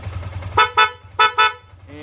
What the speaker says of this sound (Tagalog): Isang busina nga ulit, Pops.